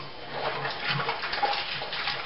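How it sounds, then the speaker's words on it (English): Water poured into a jar of saved brewing yeast makes a steady splashing, trickling rush that stays close and continuous for a couple of seconds. "Pop the water into the yeast."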